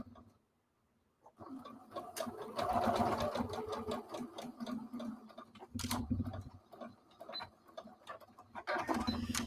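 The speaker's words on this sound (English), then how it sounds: "I say I'm not back stitching, and then I back stitch immediately" A sewing machine runs in short bursts with a reverse back-stitch, its quick mechanical rattle fairly close and steady, broken by brief pauses and small handling clicks.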